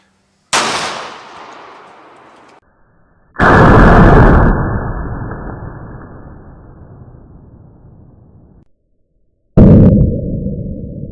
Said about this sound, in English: I'm going to be pretty much point blanking it right down here on the table, shooting at an upwards angle